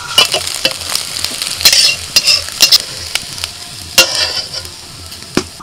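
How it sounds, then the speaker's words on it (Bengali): Two dried red chillies crackle and sizzle in hot oil as tempering, with sharp popping bursts and a few scrapes of a stirring utensil, loud and close. "ফোড়নে দিচ্ছি 2টো শুকনো লঙ্কা"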